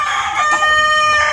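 A show-quality Sebright chicken crowing once, close and loud, in a single drawn-out call with no talk over it.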